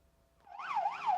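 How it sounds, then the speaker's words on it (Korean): An ambulance siren wails in a rising and falling two-tone sweep, stuck in gridlocked rush-hour traffic in Ulsan, coming in after a quiet start and holding loud and close. "구급차가 사이렌을 울려보지만 꼼짝도 못합니다"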